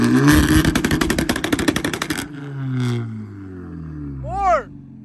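A tuned Nissan GTR and an Audi TTRS racing on a private course in Mexico, beginning with a loud, rapid, pulsing engine roar, then dropping to falling tones as they pull away, and ending with a short rising whoosh.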